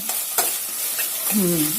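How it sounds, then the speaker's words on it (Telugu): Chopped onions fry in hot oil for a Telangana mutton curry as a spoon stirs them in the pan, close sizzling broken by scraping strokes, with a brief voice near the end. "ఇప్పుడు ఉల్లిపాయలు వేగాయండి"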